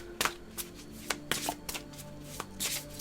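Tarot-style cards are shuffled by hand before one is drawn, giving soft, quick riffling clicks and slaps at close range in a quiet room.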